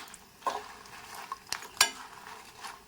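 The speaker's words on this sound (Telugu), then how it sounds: "మనం మీడియం ఫ్లేమ్లో పెట్టుకొని వేయించుకోవాలి" Soft, steady frying of chillies in a pan over a medium flame, with a few sharp scrapes and taps of a utensil stirring the contents.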